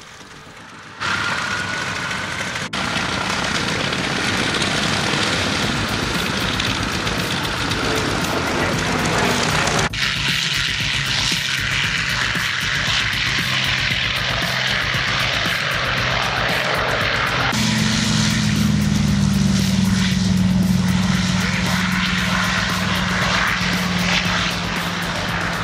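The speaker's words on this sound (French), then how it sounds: "Le Yak-11, décoré aux couleurs du Normandie-Niemen, est un classique de la Ferté." A Yak-11 propeller aircraft in Normandie-Niemen colours flies at the La Ferté-Alais airshow, its engine a loud, steady droning roar that holds throughout and deepens into a stronger, lower growl near the end.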